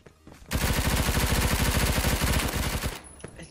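Rapid-fire gunshots from a shotgun in the Roblox shooter Phantom Forces, a dense, loud burst of about two and a half seconds of repeated blasts, with no voices.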